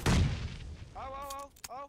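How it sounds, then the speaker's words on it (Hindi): A loud close grenade blast opens, followed by a sharp gunshot crack in a multiplayer shooter game scrim, with someone talking excitedly right after the explosion. "अबे ग्रेनेड गिरा है यार, ग्रेनेड गिरा है"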